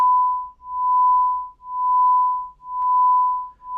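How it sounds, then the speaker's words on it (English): Electronic sine carrier tone amplitude-modulated by a 1 Hz signal, its volume swelling and fading smoothly about once per second through roughly four cycles, alone and steady in pitch. "the amplitude of the carrier wave is changing with a frequency of 1 Hz."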